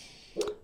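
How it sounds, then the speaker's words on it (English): A single short dog bark at moderate distance, one quick yelp in an otherwise quiet room with no talk over it. "he's barking at someone in a field"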